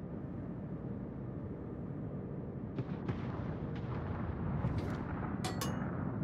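Heavy guns of the Tier 10 battleship USS Montana fire in World of Warships as a low, continuous rumble with a few faint, distant booms and crackles scattered through the second half.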